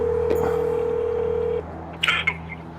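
A telephone keypad sends a steady dialing tone for over a second, then a couple of short, brighter beeps follow before the call connects, all close and clear with no voices.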